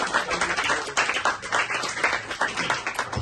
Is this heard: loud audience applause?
yes